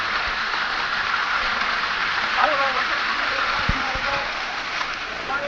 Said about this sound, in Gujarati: વરસતા વરસાદમાં આ ધોધમાર વરસાદ વહે છે